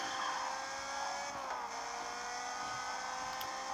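Race cars in the Gear.Club racing game, a continuous high engine whine holding steady with a brief pitch drop, moderately loud with no talking.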